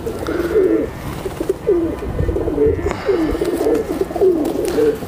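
A male fantail (chatri wala) pigeon coos close by in repeated soft rolling phrases, low and steady throughout, with no talk.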